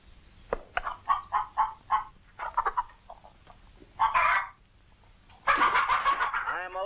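Chickens cluck in a 1952 film farm scene, a run of short rhythmic clucks followed by longer squawking bursts, close and moderately loud with some voices mixed in.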